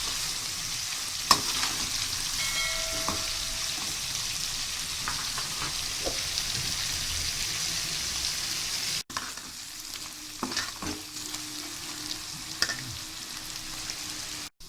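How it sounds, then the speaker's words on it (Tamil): Bitter gourd slices fry in oil in a pan with curry leaves, giving a steady close sizzle with occasional stirring clinks and scrapes. No voices. "நம்மளுடைய பாவக்காய் நல்லா ஃப்ரை ஆகிடுச்சு"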